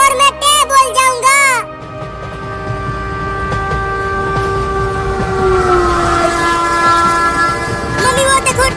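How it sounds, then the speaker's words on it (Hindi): A train passes close by, its horn blaring in short repeated blasts, then a steady rumble of wheels and wagons with long sustained horn tones building near the end, loud and near. "मम्मी वो देखो ट्रेन आ गई"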